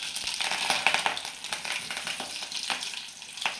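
Curry leaves crackle and sizzle in hot oil with cumin, fenugreek and mustard seeds for gummadi kaya (pumpkin) sambar, a steady close frying hiss broken by sharp pops and spatters, no voices.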